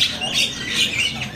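A big-bodied cucak kebo (terucuk kebo) songbird at a bird seller's stock chirps in a few short, bright calls, with a voice faintly present beneath them.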